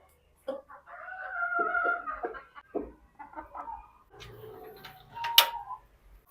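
Chickens on a small farm cluck in scattered short calls on a rainy day, close and fairly clear. A rooster crows near the end over a quiet background.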